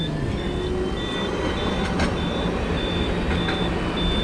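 A modern tram in Kaohsiung hums under steady broadband street noise. Short, repeated high electronic beeps sound at regular intervals, and a couple of brief clicks are heard, with no one speaking.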